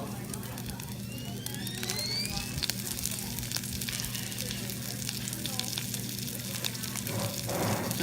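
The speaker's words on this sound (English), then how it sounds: "Sizzle." Coconut oil sizzles steadily in a pan up close, a continuous crackling fry that holds at an even level over a low background hum.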